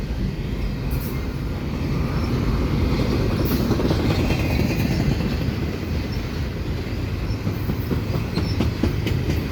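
A CPKC double-stack freight train rolls past at Dorval, a loud, steady rumble of wheels and cars with faint clickety-clack and brief squeals, continuous throughout with no talking.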